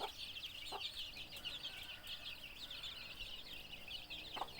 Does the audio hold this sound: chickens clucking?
yes